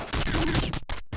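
Gunboot shots from the video game Downwell fire in a dense, loud burst of rapid blasts, then break off into a couple of short separate pops, with no talking.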